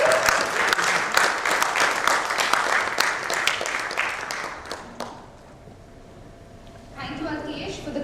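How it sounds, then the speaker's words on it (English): Audience applause welcoming the first speaker of the evening at a V-Talk session, a dense burst of clapping that fades after about five seconds into a quiet lull, then murmuring voices return near the end. "Let's welcome with a big round of applause the first speaker of the evening"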